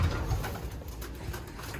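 Homing pigeon cooing inside a loft, soft low coos over a busy, noisy background, close and continuous with no talk.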